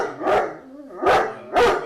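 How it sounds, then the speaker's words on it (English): Three loud, close dog barks spaced about half a second apart, with short quiet gaps between them. "That was Texas barking"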